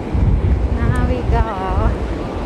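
Wind and waves at a hot, sunny beach: steady, loud wind rumble buffeting the microphone over a continuous wash of surf, with faint voices in the background.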